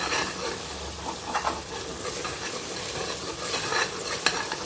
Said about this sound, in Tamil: இப்போ இந்த மசாலா நல்லா சேர்ந்து நல்லா வதங்குது.